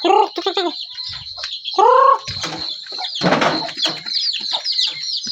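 Several chickens cluck and squawk close by, with repeated short calls and a brief flurry of flapping wings.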